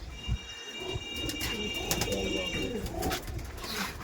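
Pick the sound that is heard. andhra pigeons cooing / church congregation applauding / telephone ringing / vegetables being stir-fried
andhra pigeons cooing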